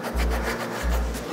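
Deposits are rubbed off the scored cylinder wall of a damaged engine, two close, loud scrubbing strokes in a back-and-forth rhythm with a rough, rasping texture.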